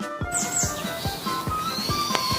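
A cartoon bird chirps in a quick series of short, bright tweets repeating in an even rhythm over a faint background tone, alone with no talk.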